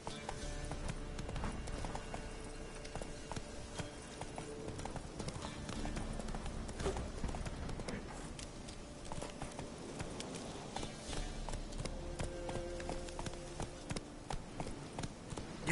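Horse hooves galloping in The Witcher 3, a continuous rapid clip-clop rhythm close and steady throughout, over a low ambient game background.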